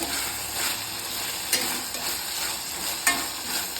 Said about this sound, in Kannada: ಬೆಳ್ಳುಳ್ಳಿ ಮತ್ತು ಮೆಣಸಿನ್ಕಾಯಿ ಚೆನ್ನಾಗಿ ಫ್ರೈ ಆಗಬೇಕು.